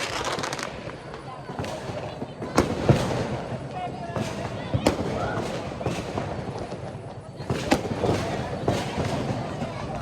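Diwali firecrackers burst repeatedly, sharp cracks and bangs scattered near and far over a crowded, noisy background, with people talking throughout.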